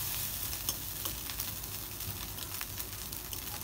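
Leftover cooked rice fries in a pan with a soft, continuous sizzle and occasional small crackles and stirring clicks, heard close and fairly quiet with no talk.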